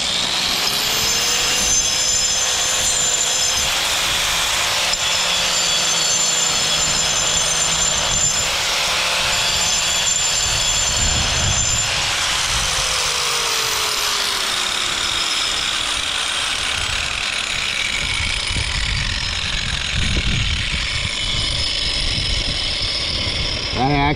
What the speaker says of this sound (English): we're gonna see if we can't grind this mess out of here and just kind of clean this up